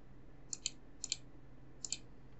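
Three quick pairs of sharp computer mouse clicks sound close and crisp against a faint, steady background hum.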